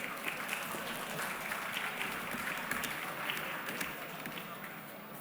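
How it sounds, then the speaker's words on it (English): Audience applause at an education awards ceremony, a steady wash of clapping hands that holds at a moderate level throughout, with some voices mixed into the crowd. "A big round of applause"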